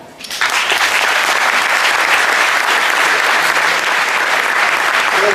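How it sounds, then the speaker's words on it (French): At a 2017 Paris jamaat tournament ceremony, an audience bursts into loud, sustained applause as a guest is called on stage, a thick, even wall of clapping rising quickly and holding steady. "je demanderai à Nassir Bhai Sharifou de venir sur scène sous un tonnerre d'applaudissements"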